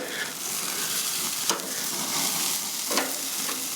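Pieces of jerk chicken sizzle and fry steadily in a pan, a continuous close crackle broken by a couple of brief scraping clatters as they are turned over.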